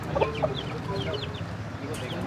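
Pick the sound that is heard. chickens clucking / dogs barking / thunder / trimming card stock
chickens clucking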